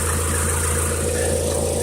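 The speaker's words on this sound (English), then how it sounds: "Got a little exhaust leak back at that donut." A car engine idles with a small exhaust leak at the donut gasket, a steady low rumble with a faint puffing ticking pulse running constant and close, with no voices.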